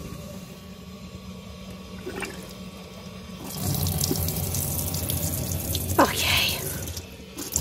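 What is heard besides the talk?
water running from caravan tap after thawing frozen pipes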